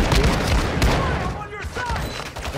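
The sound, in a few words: gunfire in video game Call of Duty MW2 DMZ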